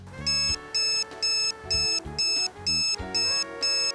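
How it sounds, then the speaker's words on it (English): Electrostatic dog fence collar from an Effitek invisible containment system set to beep-only mode: eight evenly spaced, loud electronic beeps, about two per second, each a short bright pulse, with no talk. "Beeps only."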